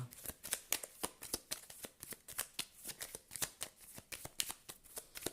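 Tarot cards being shuffled by hand, a quick run of crisp riffling and snapping bursts in a steady rhythm, close and fairly quiet, with no voices.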